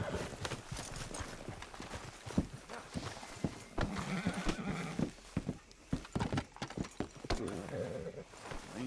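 Horse hooves clip-clop at a steady walking pace in Red Dead Redemption 2, fairly quiet, with an occasional whinny and scattered background game sounds.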